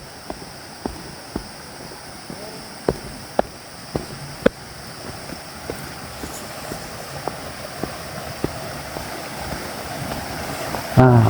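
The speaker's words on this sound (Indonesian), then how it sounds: "Ada kedengaran suara air." A fast stream rushes through a valley as a steady broadband wash of flowing water, with scattered small clicks and knocks over the constant roar.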